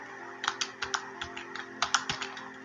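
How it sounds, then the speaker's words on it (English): Computer keyboard keys are pressed on a Windows 11 machine in a quick, irregular burst of close, crisp clicks and taps, with no voices. "just press the window logo key plus arrow keys"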